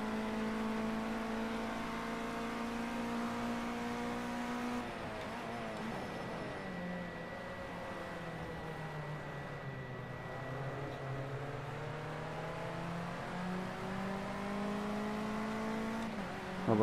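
A race car engine drones steadily during an onboard lap in the racing game Project CARS 2 on a rainy circuit, its pitch rising and falling through gear changes, loud and continuous with no voices.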